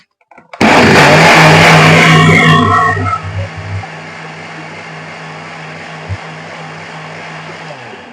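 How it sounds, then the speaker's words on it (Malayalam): A loud electric mixer grinder whirs for a couple of seconds, then its motor winds down into a low hum that fades out. "ഇത് മിക്സിയിൽ വെച്ച് ഒന്ന് അടിച്ചെടുക്കാം."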